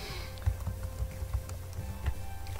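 Keystrokes on a computer keyboard while entering data into a spreadsheet, a steady run of soft close clicks with a few louder taps over a faint background hum.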